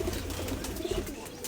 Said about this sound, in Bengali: এইগুলো পিলাঙ্কা কবুতরের বাচ্চা